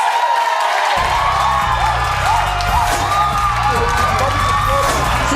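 Wendy Williams show studio audience cheering and whooping loudly, a dense sustained roar of crowd noise with shouts that starts abruptly after a brief pause and continues throughout.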